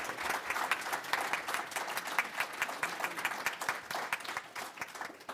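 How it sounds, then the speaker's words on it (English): Sustained audience applause at a health care and race diversity dialogue, many hands clapping steadily for the panelists, filling the room at moderate loudness. "Let's give them a big round of applause."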